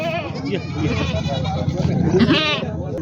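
Goats bleat at the Hingoli goat market, several wavering cries rising over a busy crowd, with people talking close by throughout.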